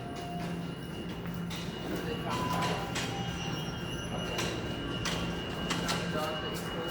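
Busy subway station ambience at Union Station, Toronto, during morning rush hour: a constant low rumble with metallic clanks, squeaks and brief rattles, and the murmur of distant crowd chatter.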